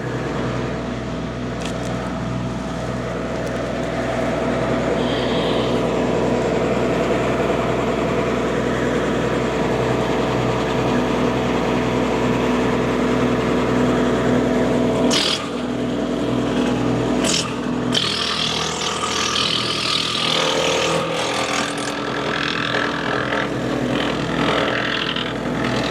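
A MechMaxx tractor-driven wood chipper runs loud and steady as tulip poplar and oak are fed through, its engine drone joined by crunching, chattering bursts partway in as the wood is chewed up.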